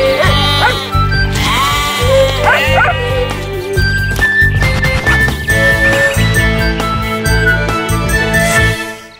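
Several sheep bleat loudly and repeatedly up close, with overlapping cries and a faint jingle of bells in between.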